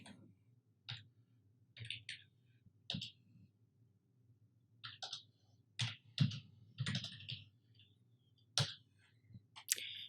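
Typing on a computer keyboard while filling in an RTO change form: irregular bursts of crisp key clicks separated by short pauses, close and fairly quiet.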